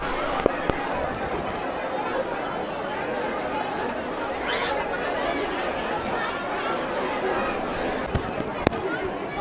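A large crowd waiting in a temple queue fills the air with continuous dense chatter and babble, steady and close, with a few sharp knocks and clicks.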